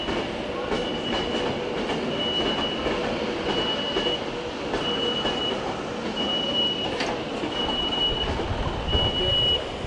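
A Virgin Trains West Coast train rumbles through Manchester Piccadilly station, a steady close roar of wheels and carriages with a thin sustained squeal over it.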